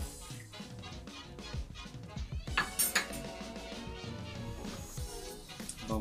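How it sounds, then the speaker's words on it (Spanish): Corn kernels tipped into rice in a cooker come through as a clatter of small hard bits against metal, with scattered clinks and scrapes of utensils and a brighter rattle in the middle. "Vamos a agregar los granitos de maíz."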